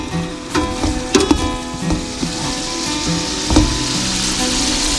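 Onions frying in grease for a hot meal cooked outdoors at a waterfront, a steady sizzle with a few sharper clatters of utensils and pan near the start and middle, fairly close and loud.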